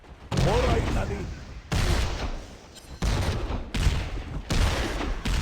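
Rapid gunfire rattles from the video game Heroes of Newerth in loud, dense bursts separated by short gaps, with game character voices talking in between.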